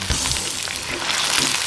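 Chicken pieces frying in ghee in a pan, giving a steady, close hiss and crackle of sizzling fat throughout, with no voices.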